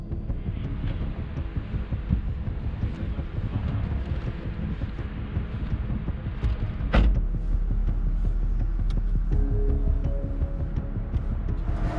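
Mercedes E 53 Cabriolet moving off gently, a steady low engine hum and rumble with wind buffeting, growing slightly firmer after a brief thump, with no talking.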